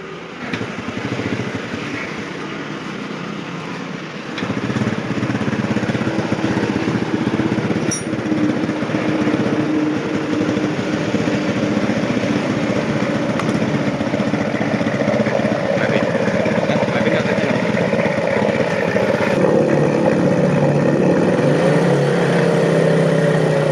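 A motorcycle engine starts and settles into a loud, steady running note in a workshop during engine repair, with the engine oil having risen and sprayed out, the sound continuing close and unbroken.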